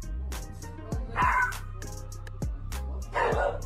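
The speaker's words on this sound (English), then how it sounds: "These two dogs love defending their house from strangers." Two dogs defending their house against strangers, giving several sharp separate barks spaced across a few seconds, with a couple of higher whining yelps, fairly close but not loud.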